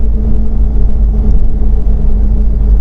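Steady low road rumble inside a closed car cruising at 60 mph on a highway on Darley Max-Quick Attack tires, a continuous broadband drone with a faint tonal hum, even and unbroken throughout.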